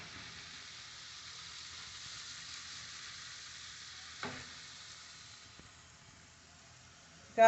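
Apple chicken sausage and penne pasta frying in a pan, giving a steady soft sizzle with light stirring scrapes and a couple of sharp knocks, including one loud clunk at the end.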